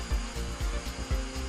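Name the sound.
pantograph machining top of aluminum extrusion profile KM005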